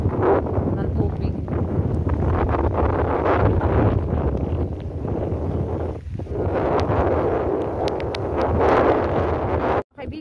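Wind gusting over a tarpaulin lashed down on a boat, covering a water-pump engine, with a steady loud roar and buffeting across the whole clip and a brief dropout near the end.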